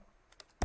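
A few quiet keystrokes on a computer keyboard tap out in quick succession, finishing with one louder key press.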